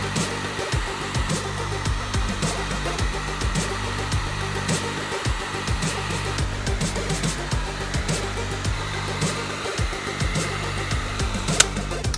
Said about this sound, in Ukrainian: Містер будівельний фен, здрасті.